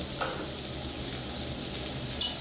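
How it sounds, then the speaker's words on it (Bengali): Lote fish and potato frying in a pan make a steady, close sizzle while being stirred gently, and a short sharp clatter near the end marks a stroke of the utensil. "এবার হালকা করে নাড়া হচ্ছে।"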